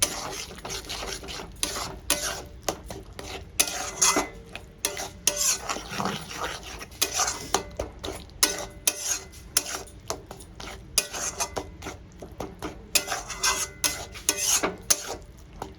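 Rui fish curry being stirred and sautéed in a pan over low gas, with a steady scraping, rubbing rhythm of a utensil against the pan and faint sizzling underneath, close and continuous.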